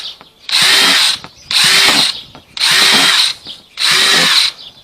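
Power drill fitted with a 1/8 inch bit boring holes in a worm farm bin, four loud whining bursts about a second each with short pauses between, close up.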